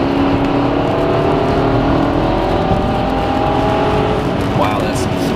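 A BMW 550i four-door sports sedan accelerating hard, its engine note climbing steadily in pitch as it pulls through the gears, loud and close under continuous road and wind roar.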